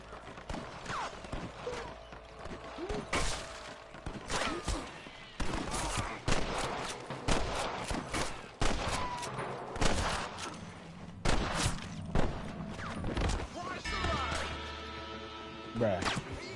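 Sniper gunfire in Red Dead Redemption: sharp shots crack out one after another over galloping hoofbeats and game action, with voices heard at times.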